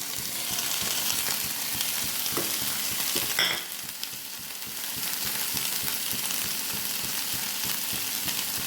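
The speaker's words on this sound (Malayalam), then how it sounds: "ഉള്ളി ഒന്ന് വഴറ്റി വന്നപ്പോൾ നമ്മളതിനകത്തേക്ക് എടുത്തു വെച്ചിരിക്കുന്ന പയറും കൂടെ ഇട്ട് കൊടുക്കും" Green beans, onion and curry leaves sauté in a hot pan with a continuous close sizzle, and a brief stirring scrape breaks in partway through.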